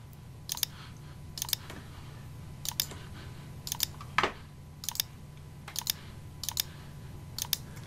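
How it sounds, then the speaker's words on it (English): Computer keyboard keys are pressed in a copy command while working on a Wallace and Gromit rocket ship model: a series of crisp, evenly spaced clicks, close and fairly quiet, alone. "So now I'm going to use my keyboard to copy them."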